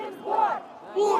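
A crowd of indignant protesters at a street demonstration in Russia, heard as a brief, close, loud swell of shouting voices raised together.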